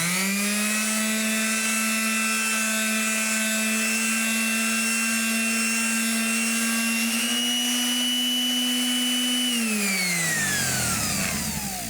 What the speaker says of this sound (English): I'm going to use the same sander on that